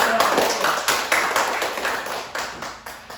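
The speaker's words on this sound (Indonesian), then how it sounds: "kita berikan tepuk tangan untuk kelompok" A classroom group claps for a group of students, a short patch of fairly close, uneven hand claps with faint chatter and room noise underneath.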